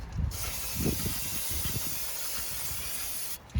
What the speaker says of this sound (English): we got brake cleaner and a rag